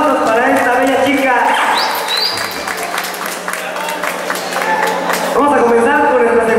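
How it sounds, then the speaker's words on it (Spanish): Loud, sustained applause and cheering from a pageant audience for a young contestant, steady and full throughout with whistles and chirpy calls mixed in, swelling again near the end. "Fuertes los aplausos para esta bella chica."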